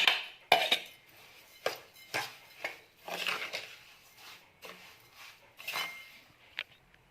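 Grated lemon zest being mixed with half a kilo of sugar in a bowl, with irregular spoon clinks and scrapes against the bowl, fairly close and moderately loud, and no talking.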